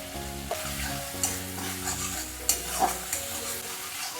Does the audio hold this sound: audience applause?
no